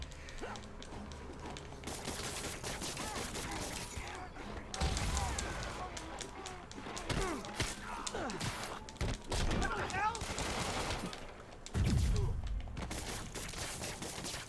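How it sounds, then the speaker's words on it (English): Gunfire in the Spider-Man PS4 video game rattles in scattered bursts amid crashes and impacts of combat, while someone talks over much of the action. "Okay, you shooting me,"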